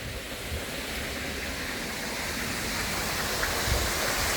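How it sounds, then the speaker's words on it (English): Canal water runs down through an outlet at the old Gurnos quarry in Merthyr Tydfil, heading into the River Taff, making a steady, loud, continuous rushing roar with no voices. "as you can see the canal water is up, so it is actually running down here today"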